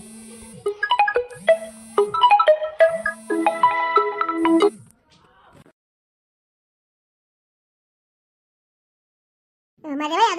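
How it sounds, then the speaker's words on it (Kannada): A mobile phone ringtone rings loudly in a repeating melodic pattern for about five seconds, then stops; another tonal burst starts at the very end. "ಫೋನ್ ಬರ್ತದ ನೋಡು"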